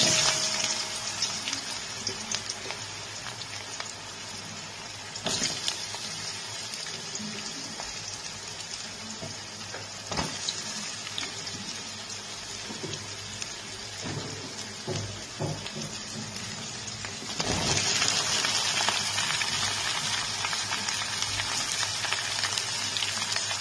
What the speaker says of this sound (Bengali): ফোড়নটা একটু ভাজা ভাজা হলে এইবার এই তেলটার মধ্যে আমি সবজিগুলোকে দিয়ে দিচ্ছি